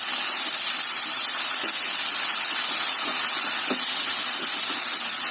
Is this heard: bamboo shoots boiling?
yes